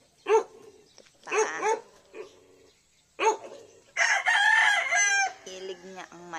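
Roosters crow in several bursts, one long call near the end, mixed with a dog's barks; close and loud against a quiet background.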